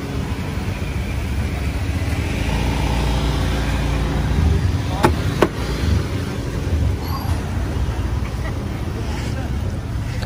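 A car pulls away on a road in Phnom Penh, Cambodia, its engine a loud, steady rumble that holds evenly throughout, with a couple of brief higher clicks partway through.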